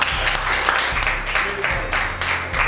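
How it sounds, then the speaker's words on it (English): A crowd at a high school basketball team gathering claps in dense, continuous bursts, loud and close, while voices cheer and call out over the applause. "let's give him a round of applause"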